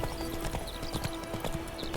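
Horse hooves clip-clop steadily at a riding gait in The Witcher 3: Wild Hunt, rhythmic close thuds over a continuous bed of ambient outdoor noise, with no talk.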